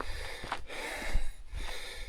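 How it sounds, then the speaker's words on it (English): Heavy, labored breathing of an out-of-shape person walking outdoors, a close series of rough inhales and exhales with snorting gasps at an uneven rhythm, no speech. "As you've been able to tell from the heavy breathing, I am well unfit."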